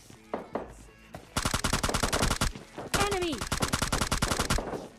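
Gunfire in the video game PUBG Lite, a few scattered shots and then two long rapid bursts of automatic fire, loud and close, with a brief voice over the middle.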